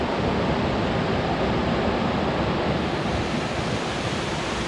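Roaring Brook rushes at a mountain trailhead, a constant loud broadband roar of fast-flowing water that stays steady with no breaks or voices.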